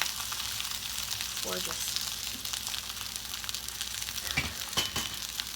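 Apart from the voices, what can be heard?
organic black bean burgers frying and sizzling in a pan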